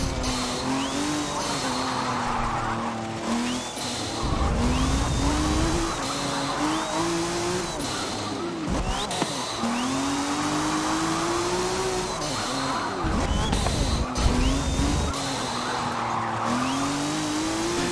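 A racing video game car's engine whines and revs with rising and falling pitch, broken by repeated tire skids and squeals, loud and constant throughout with no speech.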